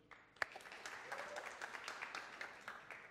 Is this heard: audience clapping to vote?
yes